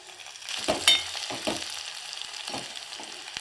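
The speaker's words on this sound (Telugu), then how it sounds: "ఇప్పుడు పచ్చిమిరపకాయలు వేసుకొని ఇవి కూడా ఫ్రై కానిద్దాం." Green chillies fry with onions in a pan, a soft crackling sizzle with a few scraping stirs and clicks of a spoon, close and moderate, no voices.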